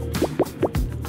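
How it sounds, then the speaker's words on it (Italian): A quick run of three or four underwater bubble plops rises one after another, then ends in a lower gurgle, close and fairly quiet. "Le bolle inizieranno a salire e dovrai solo seguirle."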